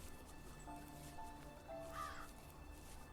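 A crow caws faintly within the woodland ambience of the video game The First Tree, a few brief calls sitting over a steady background hum.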